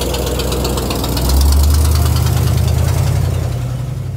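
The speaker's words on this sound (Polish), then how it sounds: "Skrzypienie tego silnika, skrzypienie tego samochodu to jest coś pięknego." An old car engine running with a steady low, rough drone and a knocking, creaking texture that rises slightly partway through, continuous and close, with no voices.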